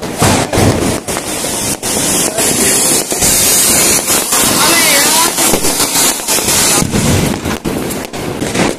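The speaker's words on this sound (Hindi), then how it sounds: "अनार जला रहे हैं।" An anar fountain firework lit during Diwali gives a loud, continuous fizzing hiss that spits and crackles nonstop, with voices talking over it and occasional louder pops.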